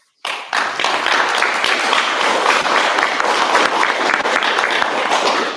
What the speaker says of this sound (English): they are owed a round of applause by the membership